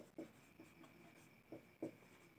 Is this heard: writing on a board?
yes